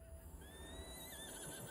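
A horse whinnies in the online horse-riding game Star Stable, a single rising and falling neigh heard alone over a steady low game background.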